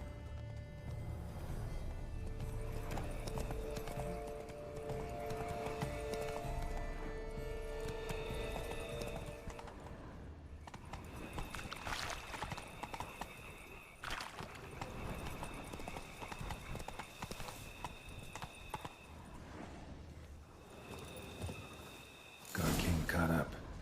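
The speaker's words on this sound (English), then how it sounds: "Horses must have gotten spooked." Horses in The Witcher III video game give hoof clops and snorting amid game ambience and music, with quiet, spoken dialogue passing over them and a sudden loud burst near the end.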